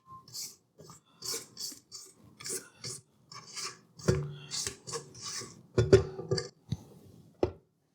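A spatula makes a series of short, uneven rasping scrapes around a mixing bowl of flour and salt, close up, with a few sharper knocks against the bowl.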